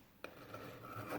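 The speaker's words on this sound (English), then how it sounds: "So I've got a little three-sided little file here." A small three-sided file rasps burrs off a metal fishing reel part from a Pflueger Supreme 600, making a brief, quiet scraping stroke up close in a hushed room.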